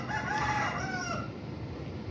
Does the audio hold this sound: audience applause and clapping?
no